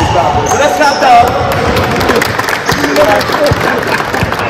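A sneaker-giveaway crowd cheers and claps over a loud, dense bed of noise with thumping beats, while voices carry on throughout.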